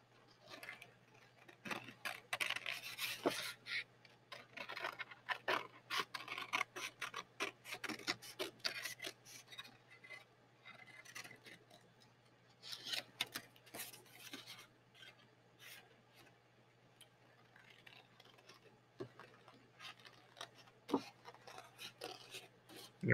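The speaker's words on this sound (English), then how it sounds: "I got too much paper that's hanging off, I might cut that off" Scissors snip through paper, cutting out a bear shape, with steady quiet crisp snips and rustling that run for about twenty seconds, close and faint, with no talking.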